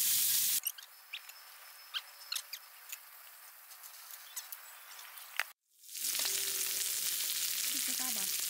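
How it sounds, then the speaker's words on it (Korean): Cheese grilling outdoors on a camping picnic, a soft crackling sizzle with scattered pops in the first half, then a brief cut followed by a steadier, louder frying hiss. "치즈가 맛있게 구워지고 있습니다"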